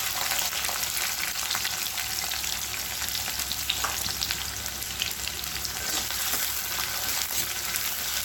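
Onions going into hot oil with bay leaf, stone flower, star anise and cloves for a kadai egg masala curry, frying with a steady, dense sizzle throughout, close and even, with occasional stirring.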